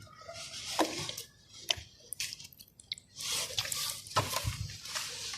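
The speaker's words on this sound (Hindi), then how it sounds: "ऐसे पानी से भर दें।" Water trickles and splashes from a perforated watering can onto soil sown with vegetable nursery seeds, a soft, uneven patter with a few louder squishy drips, close by.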